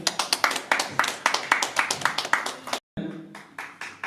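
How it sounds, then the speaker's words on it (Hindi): An audience claps at an event-artists' association ceremony in Varanasi, a steady run of close, rhythmic claps broken by a brief pause before the clapping resumes. "तालियां होनी चाहिए।"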